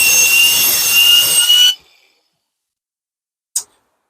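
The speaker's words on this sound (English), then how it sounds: "that's where we'll put the saw through it to cut a nice, neat, straight line" A hand saw cuts a straight line into wood, its steady rasping stroke loud and continuous for under two seconds before stopping abruptly, followed by silence and one short tap.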